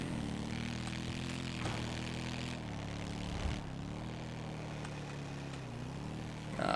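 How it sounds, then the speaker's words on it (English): Droning propeller aircraft engine in GTA V with an uneven rattling tone, steady and fairly close, holding for several seconds with slight pitch shifts and no talk. "Ah, that's the engine rattle."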